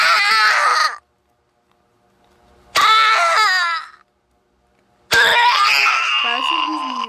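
A chicken death cry from the video game Chicken Gun, played three times as loud, harsh squawking screams of about a second each, separated by silence.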